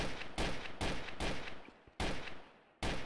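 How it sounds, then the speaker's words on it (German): Gunshots in Trouble in Terrorist Town, five loud evenly spaced shots, each with a sharp attack and a short ringing decay, with no talk over them. "Ich schieße einfach schön auf Mayhem."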